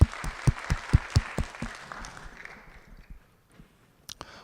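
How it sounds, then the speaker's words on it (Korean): Clapping at a church service after a prayer, a small group beating out a few distinct, rhythmic claps near the mic that thin out and fade within about three seconds. "우리 받으신 주님께 감사의 박수."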